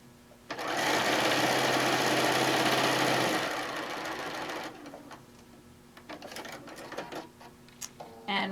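A sewing machine stitches through a quilt tack on a charm-pattern panel quilt: a loud, steady mechanical whir for about three seconds, then quieter running and scattered clicks and rustles.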